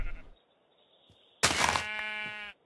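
Sheep in the video game Minecraft, a short blocky bleat followed by a louder, buzzy, harmonic bleat lasting about a second, close and clear, with no speech.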